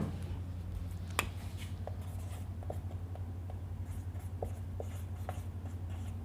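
A formula is written on a board, with faint, sparse scratches and taps of the writing tool against a steady low hum, plus one sharp tick early on.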